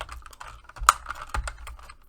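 Typing on a computer keyboard: a short run of quiet, close key clicks with a couple of sharper taps, no talking.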